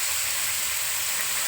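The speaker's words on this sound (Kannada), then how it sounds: "ಈರುಳ್ಳಿ ಎಲ್ಲ ಚೆನ್ನಾಗಿ ಫ್ರೈ ಆಗ್ತಾ ಇದೆ." Onions, chillies and vegetables frying on a tava in a home kitchen, making a dense, even sizzle that holds steady and fairly loud for a brief moment.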